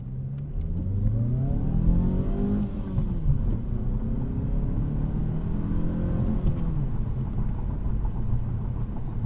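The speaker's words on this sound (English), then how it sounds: "Now let's see what it's like taking off" A 2025 Mazda 3 with a six-speed manual pulls away from a stop, its engine rising in pitch through the gears with a steady cabin rumble, heard from inside without talk.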